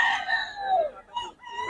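A rooster crows close by, a drawn-out rising and falling call followed by a shorter second crow, loud against a quiet yard.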